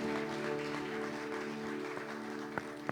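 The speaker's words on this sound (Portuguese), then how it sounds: "Aplauda ao Senhor com alegria no seu coração." A Baptist church congregation applauds the Lord during a Sunday evening service, a steady spread of clapping heard fairly faintly under sustained music.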